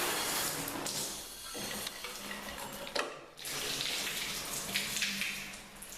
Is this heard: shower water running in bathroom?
yes